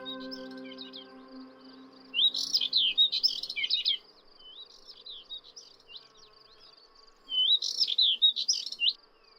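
Bright, twittering birdsong of subalpine warblers and Thekla larks comes in two lively bursts against a quiet background, with a faint steady hum beneath the trills.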